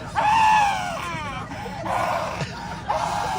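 A woman's screams come from a played video, several shrill, wavering wails in quick succession, somewhat thin and distant as if heard through a speaker.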